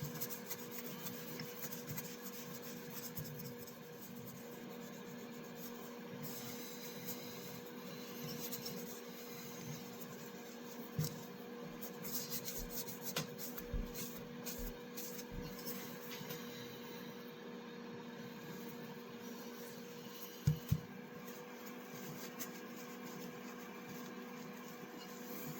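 A vintage knife is hand-polished with a steady, faint rubbing and rasping that runs continuously, with a few brief louder scrapes and knocks near the end.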